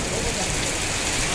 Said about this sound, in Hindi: यहाँ पे बारिश हो के शुरू हो चुकी है।